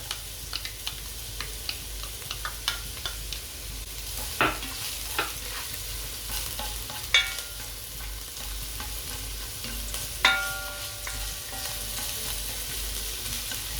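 Ginger sizzles in hot oil in a pan while cooking for biryani, a steady close frying hiss broken by scattered clinks and scrapes of a utensil stirring; no one speaks.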